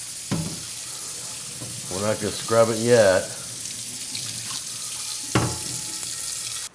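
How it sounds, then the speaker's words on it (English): Hot tap water runs steadily and splashes onto a cast iron pan, rinsing off vinegar, with someone speaking briefly over the rushing flow. "We're gonna hit it with hot water. Gonna rinse the whole pan off"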